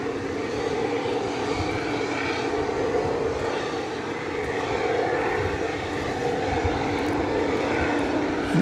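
Large airliner engines roar steadily at DFW Airport at night, a loud continuous broadband drone with a low rumble that holds evenly throughout, with no talking.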